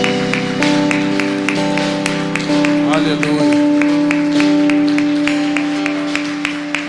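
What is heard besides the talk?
congregation applauding in church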